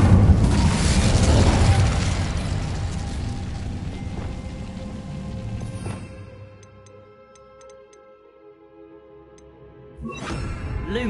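Casting the Incendio fire spell in Hogwarts Legacy on PS5 lets loose a loud whooshing burst of flame that roars and fades over several seconds, followed by quiet ticking game ambience and a fresh swell at the end.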